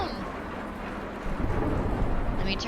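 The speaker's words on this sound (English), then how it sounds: "Let me turn down the rain a little bit." A rain and thunder sound effect plays during a broadcast: steady heavy rainfall hisses throughout while a deep thunder rumble swells midway and rolls on, loud and close.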